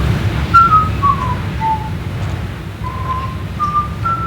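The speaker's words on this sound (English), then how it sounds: "Keep whistling the happy tune there" A person whistles a cheerful tune in short melodic phrases, clear and fairly close, over a low rumbling background with no talking.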